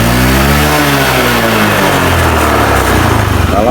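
A Honda Beat carburetor motorcycle engine revs loudly and close up, its pitch rising and falling through a continuous buzzing drone, with no one speaking.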